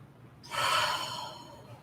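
One audible breath drawn in and let out during a live yoga class, a soft, close airy rush that swells and slowly fades, with no talking.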